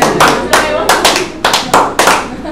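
Students in a classroom clap a rhythmic line, five loud, close claps in uneven spacing, each with a short ringing decay, with faint voices beneath.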